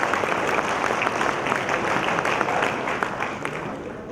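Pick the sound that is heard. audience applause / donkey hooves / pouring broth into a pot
audience applause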